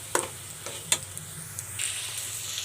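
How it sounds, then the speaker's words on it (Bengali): Red lentils (masoor dal) sautéed with spice paste in a kadai hiss with a quiet, steady sizzle, broken by a few sharp scrapes and clicks of a stirring spoon. "ডাউল দিয়ে ডাউলটা ভালো করে কষিয়ে নেব।"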